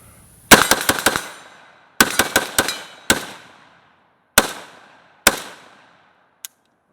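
A PSAK GF3 12.5-inch pistol firing outdoors: loud, sharp shots in a rapid burst of five, then a burst of four, then three single shots with echoing tails, ending in a small click.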